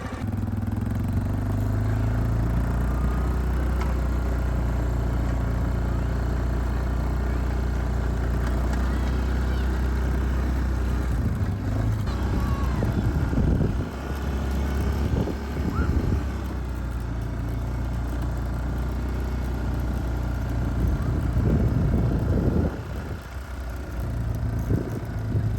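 A Fox-body car with a Coyote engine circles slowly, giving a continuous low engine rumble close by with steady idle-like throb and occasional light clatter, no one speaking.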